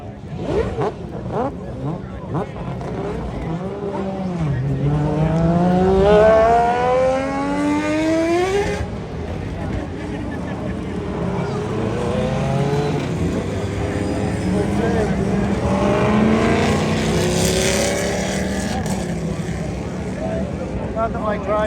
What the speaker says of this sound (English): That's the Ferrari.